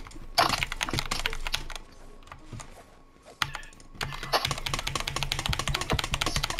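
Fast typing on a computer keyboard clatters in dense, close bursts of key clicks, with a brief lull in the middle before the rapid tapping picks up again.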